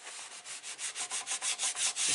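A paper sheet is rubbed firmly along the edge of a mini recipe album page in quick repeated strokes, a dry, hissing rasp that pulses about a dozen times in a steady back-and-forth rhythm, close and fairly loud with no talking.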